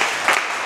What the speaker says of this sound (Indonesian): Oke, beri tepuk tangan dong si Ridonya